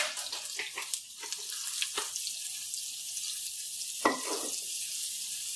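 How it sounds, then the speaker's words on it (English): Mushrooms fry in about two tablespoons of olive oil in a pan, giving off a steady, close sizzling hiss punctuated by a few brief clinks and stirs. "you cook the mushrooms, you stir occasionally until they're about golden brown, 4 to 6 minutes"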